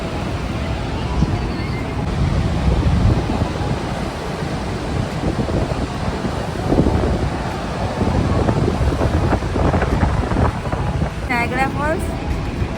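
Niagara Falls roars as a steady, broad wash of rushing water mixed with wind buffeting the microphone, constant and loud throughout, while a person talks over it.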